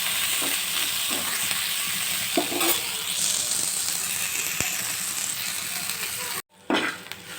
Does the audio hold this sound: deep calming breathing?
no